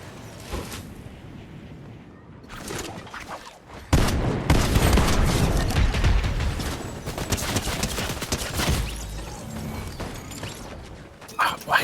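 Fortnite gunfire comes in a dense, loud, sustained volley of rapid shots, with quieter scattered bursts before and after it.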